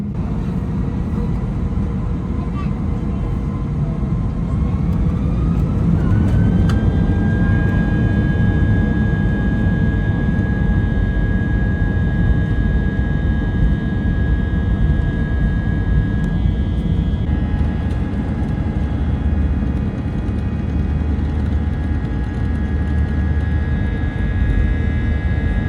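A passenger jet takes off eastward from runway 09 right at London Heathrow, a loud, steady engine roar heard from inside the cabin, with a rising whine that climbs and then holds as thrust builds, no speech.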